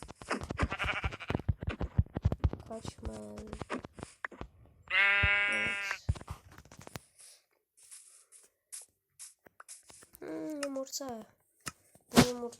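Sheep in a survival video game let out several drawn-out bleats at intervals while a person talks between and around them.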